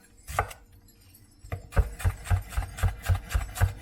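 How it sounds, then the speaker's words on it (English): Knife roughly chopping an onion on a board: a couple of isolated cuts, a pause, then a steady run of about eight rhythmic, close, knocking chops. "Just a nice rough chop of onion."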